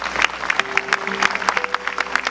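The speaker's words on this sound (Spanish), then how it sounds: "dale un aplauso al Rey." A church congregation claps during a Spanish-language worship service, a brief burst of uneven, lively applause with scattered sharp hand claps and a faint sustained tone underneath.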